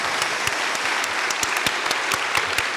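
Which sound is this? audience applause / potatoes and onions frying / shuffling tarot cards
audience applause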